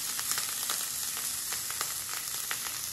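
Onions sizzle steadily in oil for a Solapuri chicken rassa masala, with a dense hiss and irregular stirring scrapes and crackles spread through the whole stretch, fairly close and with no voices.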